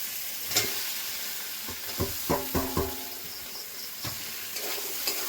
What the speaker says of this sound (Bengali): পোস্তগুলো ভালো করে ভেজে নিয়েছি, তেল বেরিয়ে গেছে, আলুগুলো দিয়ে দেবো।